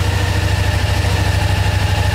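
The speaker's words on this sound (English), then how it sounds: "So you can see she's idling about 1500, and that's the exhaust we've got on at the moment." A 2011 Suzuki SFV650 Gladius with a Yoshimura exhaust idles at about 1500 rpm, a close, loud, steady rhythmic low burble with even pulses and no voices.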